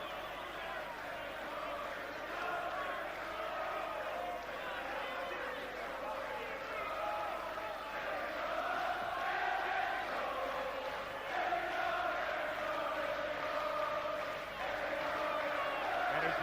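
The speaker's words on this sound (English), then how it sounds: "the crowd has broken into song" A boxing crowd in Boston sings together on an Irish holiday, a broad, distant swell of massed voices rising and falling across the arena, steady under a commentator's talk.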